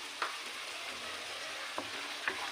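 Chicken karahi, a Pakistani street-food dish, fries in a wok with a steady loud sizzle, broken by three sharp clinks as it is stirred.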